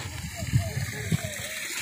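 Water flowing through a neighbourhood gutter drain, a steady close rushing wash with a few brief spluttering surges and a faint voice underneath.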